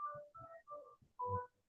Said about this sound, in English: I'm hearing some ringtone or something.